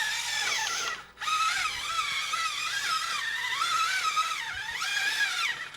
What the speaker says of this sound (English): Kind of embarrassed on how loud this truck is.